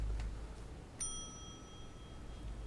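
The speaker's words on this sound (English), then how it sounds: "Let's press the bell." A single bright ding from a front desk bell pressed in the motel lobby of The Wolf Among Us, a sharp strike that rings out and fades slowly over quiet room tone.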